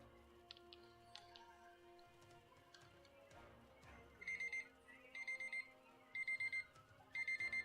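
A timer alarm in the video game Outward beeps in four short repeated bursts, bright and insistent, over quiet ambient game music and background sound.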